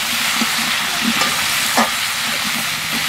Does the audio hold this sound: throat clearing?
no